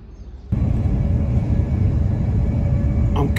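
Steady low rumble and hum inside a moving passenger train heading toward Shenfield, cutting in abruptly after a quiet start and holding constant, with a brief rattle near the end.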